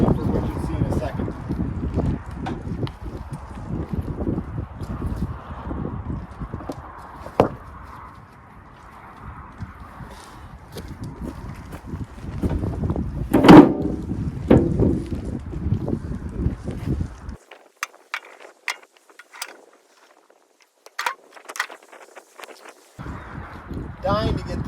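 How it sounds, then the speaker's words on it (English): Gusty outdoor wind buffets a phone microphone while a new lawn is being levelled, producing a heavy low rumble with scattered knocks and scrapes before the wind briefly drops away near the end. "It's windy today out here, so I hope it's not too much of a problem with the mic on the phone."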